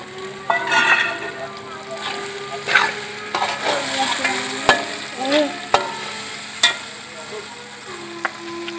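Chicken frying in a pot for village-style Pakistani chicken pulao, stirred with a utensil: steady close sizzle with scraping strokes and clinks against the pot at irregular intervals, no talk.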